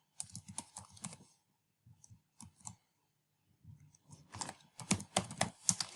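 Computer keyboard typing Python code, quick bursts of clicking keystrokes in irregular runs, close and clear with short pauses between groups, no talking.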